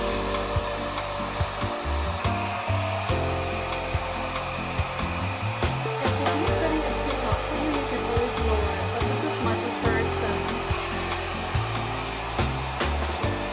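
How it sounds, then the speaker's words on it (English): A hair dryer fitted with a diffuser runs continuously while drying curly hair, its steady airflow whir broken by repeated rubbing and scrunching sounds close to the microphone. "now I'm going to flip my hair to one side and scrunch diffuse"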